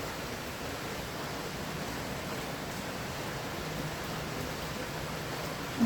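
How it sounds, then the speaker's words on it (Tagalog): Steady, even hiss of rainfall in Imus, Cavite, constant and fairly soft, with no voices and a brief bump at the very end. "Ayan po, umuulan po."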